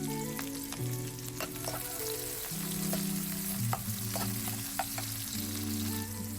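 Onion and curry leaves fry in a pan with a steady, close sizzle, a tonal hum running beneath the crackle throughout.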